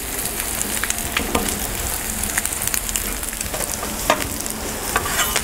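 A burrito shell warms on a Blackstone flat top griddle beside eggs, with an even crackling sizzle and scattered sharp pops and scrapes, close and steady with no speech.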